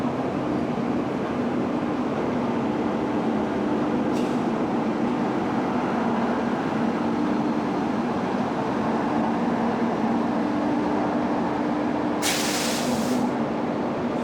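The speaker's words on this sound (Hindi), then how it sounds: "अभी वहाँ पे भी कोई ट्रेन अराइव हो रही है" Steady rail rumble of a Jan Shatabdi express (12061), hauled by a WAP5 locomotive, arriving at an Indian station; a continuous low drone with a brief hiss near the end, heard without talk.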